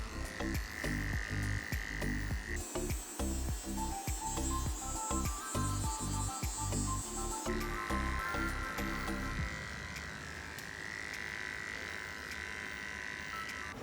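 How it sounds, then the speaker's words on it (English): Steady electric clipper buzz shaving a Bouvier des Flandres dog's fur, with the motor pitch shifting as the blade moves through the coat; close and continuous, with no talking. "And everything in this area gets shaved, even at least 4 inches down the inside of his back legs."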